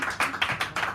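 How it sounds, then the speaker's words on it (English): A small cafe audience claps briefly for the closing poet at a poetry hour, sharp uneven hand claps lasting about a second, close and fairly loud. "Give her a round of applause."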